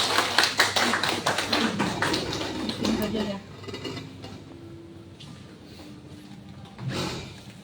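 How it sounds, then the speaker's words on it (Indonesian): A seated group at a corporate training session claps briskly and loudly for about three seconds, then the applause thins out, with a brief final burst and background voices. "Kita kasih tepuk tangan dong."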